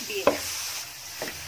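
Ground beef sizzles and gets stirred in a pan with no added oil, a soft frying hiss broken by a couple of quick scraping stirs, close up and fairly quiet.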